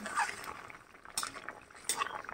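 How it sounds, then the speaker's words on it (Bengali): A curry is stirred in a pan with a spoon, giving faint, close scraping and light clinks of utensil on metal over a low background. "একটু নাড়াচাড়া দিলাম।"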